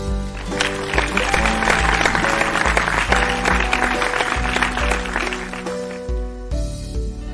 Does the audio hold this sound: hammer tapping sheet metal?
no